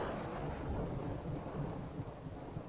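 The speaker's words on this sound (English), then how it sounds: "It's raining. It's awesome." Steady rain with low rumbling thunder during a rainy jungle stage of Uncharted 2, a continuous even wash of rainfall with a deep roll underneath, heard alone.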